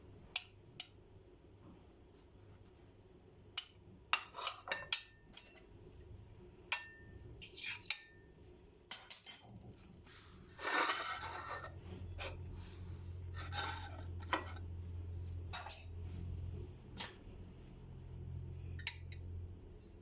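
Cutlery working through a quince dessert on a serving plate, with scattered light clinks and scrapes of metal against the dish, sparse and close, over a faint low background hum.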